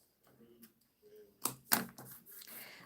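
Card is cut along a fold while making a 6x6 card box: a few quiet rustles, then two crisp, sharp cuts close by.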